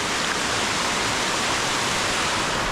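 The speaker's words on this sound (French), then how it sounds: "Ça va jusque là-haut, la cascade elle part de là-haut." Mountain waterfall along a trail, a dense, steady roar of falling water filling the whole stretch evenly and loudly, with no other sounds.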